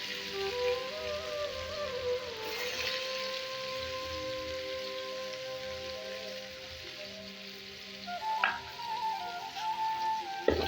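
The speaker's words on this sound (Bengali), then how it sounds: "পেঁয়াজগুলো বাদামি কালার করে ভেজে নিতে হবে" Onions, with a little sugar added, fry in a wok as a soft, steady crackle at low level. Faint tonal background sounds play underneath, and a few brief clatters come near the end.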